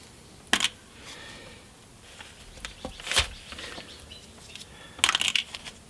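Metal bridge studs worked out of a Gibson SG guitar body, giving three sharp metallic clicks and scrapes spaced a couple of seconds apart, close and crisp against a quiet room.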